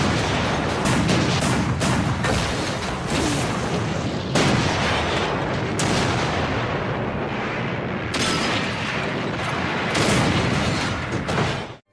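Sustained heavy artillery barrage in a World War I battle scene, booming blasts rolling almost without pause for twelve seconds, loud and dense with brief dips before fresh salvos.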